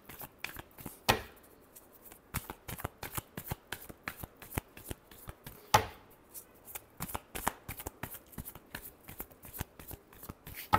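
Tarot cards are shuffled in a steady run of crisp riffling slaps and flutters, two louder bursts marking bridge-style shuffles, close and quiet with no talking.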